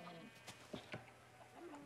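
Short sheep bleats from Minecraft, two or three brief cries rising over a steady background hum and faint talk from players breeding sheep.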